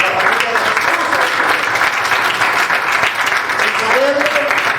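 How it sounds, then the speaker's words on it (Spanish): A church congregation applauds during a Spanish-language sermon, the clapping dense and steady throughout, with a voice speaking over the noise toward the end. "Un aplauso al Señor"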